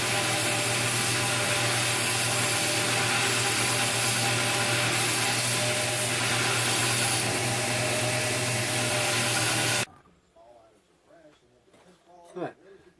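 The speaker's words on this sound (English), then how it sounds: "I've hit that in the belt sander, and I've got it shaped up a little bit better." A belt sander grinds and shapes a small steel drop point knife blade, a loud continuous abrasive whine with steady tonal hum that cuts off abruptly near the end, leaving quiet workshop clatter.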